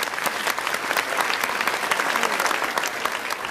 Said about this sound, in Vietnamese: Xin được dành một tràng pháo tay cho Nhật Minh và Ngọc Nhi.